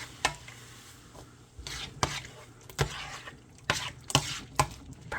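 Shrimp Alfredo sauce with lemon pepper being stirred in a pan, with a series of sharp scraping and clinking utensil strokes at irregular intervals over a faint background sizzle.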